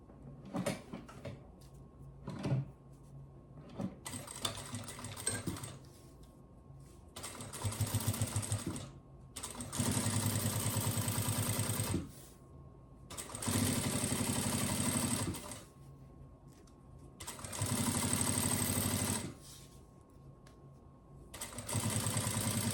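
A sewing machine stitches a fabric strip for a baby diaper and wipes pouch in repeated bursts of rapid whirring, a few short ones and then several longer runs of several seconds each, separated by quiet pauses, close and clear.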